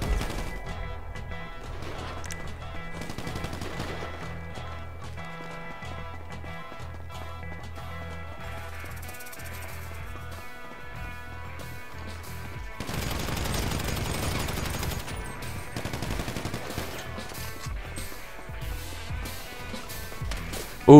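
Gunfire in GTA 5 during a team deathmatch, bursts of shots and crashes layered over a steady game soundtrack, growing denser and louder midway through.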